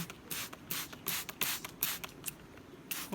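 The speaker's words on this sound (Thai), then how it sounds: "ฉีดพ่นด้วยค่ะ" Water sprayed from a hand spray bottle onto an ornamental Spanish moss plant, a series of about a dozen short, crisp hissing bursts in an irregular rhythm, close and fairly loud, with no talking.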